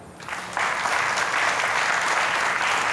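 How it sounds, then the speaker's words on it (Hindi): Studio audience applause on a televised quiz game show, breaking out after a short quieter lead-in and then holding as steady, dense clapping for the remainder. "जोरदार तालियां।"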